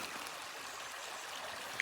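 Creek water at a gold prospecting site flows in a steady, even rush of broadband splashing and trickling, moderately quiet and unbroken throughout.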